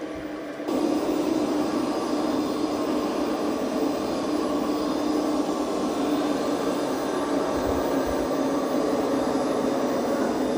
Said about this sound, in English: it is doing a pretty good job of vacuuming